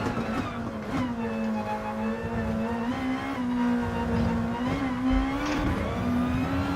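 Race car engine in Gran Turismo Sport during a VSS GR.2 Championship race, a steady, close, droning note that drops and climbs slightly as the car comes down through the gears, with no talk over it.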